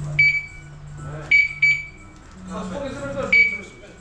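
Short electronic beeps in several quick bursts from the alarm on a Zontes G155 motorcycle after a new battery is fitted by a mechanic, with someone talking close by between the bursts.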